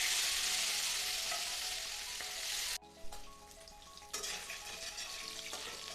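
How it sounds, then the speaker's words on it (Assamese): Fish heads and small fish pieces fry in hot oil in a wok with a loud, close hiss that suddenly drops, then settles into a softer, steady sizzle with bursts as the pieces are moved. "তেলখিনি ভালদৰে গৰম হৈ অহাত এতিয়া মই ইয়াতে মাছৰ মাথাখিনি আৰু মাছ কেইটুকুৰা দি ল'ম"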